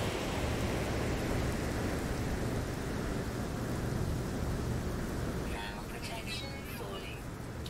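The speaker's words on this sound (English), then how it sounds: "It's raining." Acid rain pours steadily across a warm alien planet in No Man's Sky, a dense continuous hiss of rainfall close around, with a voice talking briefly over it near the end.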